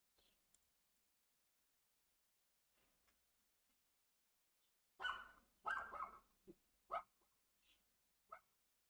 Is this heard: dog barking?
yes